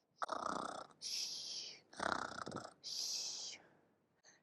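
A voice imitates snoring: four loud, exaggerated snores alternating rasping inhales and whistling exhales, close and rhythmic, with a short snort at the end.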